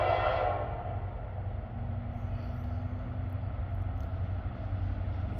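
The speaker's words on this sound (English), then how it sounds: "This looks like this might be an EMD styled locomotive." A train with an EMD-style locomotive approaching a railroad crossing in Lodi, Ohio, heard as a steady, loud low rumble of engine and rolling wagons, with a faint horn-like tone drifting in partway through, alone with no voices.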